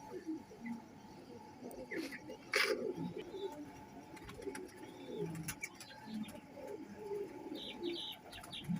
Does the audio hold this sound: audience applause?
no